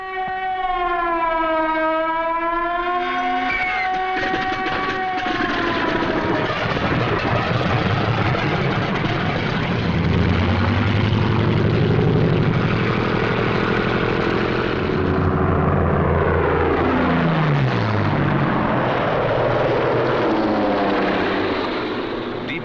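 Propeller engines of WWII fighters, Messerschmitt 109s and Focke-Wulf 190s, drone loudly and steadily throughout, opening with a rising and falling wail before a heavy roar swells in the middle and a pass sweeps downward in pitch.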